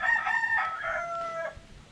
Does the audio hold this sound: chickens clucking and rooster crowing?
yes